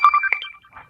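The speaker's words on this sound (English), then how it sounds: "Goddamn notifications." A short electronic phone notification chime plays, a few quick bright tones close to the mic, alone with no talking.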